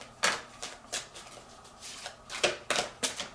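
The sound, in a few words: deck of cards being shuffled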